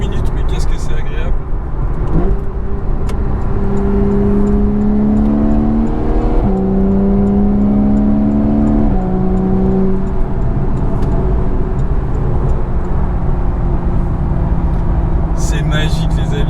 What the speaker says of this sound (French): on est monté qu'à 5000 tours minute, mais qu'est-ce que c'est agréable.